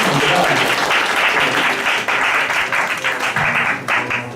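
A church congregation claps during a Sunday worship service, sustained dense applause filling the hall with steady loudness, a voice talking over it near the end.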